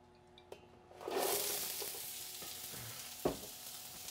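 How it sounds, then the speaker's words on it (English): Chopped onion dropped into a hot pot on an induction stovetop bursts into a loud, steady sizzle after about a second, with a few utensil clinks around it and no talking. "I'm going to go ahead and put our onion in our pot, and I'm going to turn my pot on."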